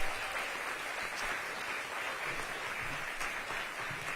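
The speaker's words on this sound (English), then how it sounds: "So give yourselves a round of applause." Audience applause for teachers at a welcome-back school year event for educators, a steady, fairly faint wash of many hands clapping throughout with no voices.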